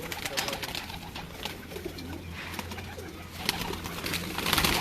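Breeder pigeons in a loft, steady low cooing under a busy ambient background with occasional clicks and faint distant voices.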